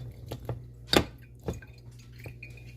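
Herbal forsythia cough syrup tea is strained through by hand. A few soft, sparse drips and splashes land close by, with one sharper splat near the middle, over quiet background.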